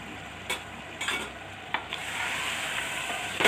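Pulao masala frying for mutton yakhni pulao gives a soft continuous sizzle, with a few scraping stirs early on and the frying growing slightly louder toward the end, close by and with no voices.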